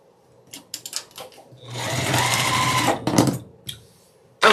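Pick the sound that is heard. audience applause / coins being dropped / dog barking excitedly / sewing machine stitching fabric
sewing machine stitching fabric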